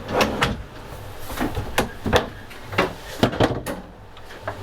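A drawer in a camper kitchen is pulled open with a series of light knocks, rattles and sliding clatters, close by in a quiet room with no talking.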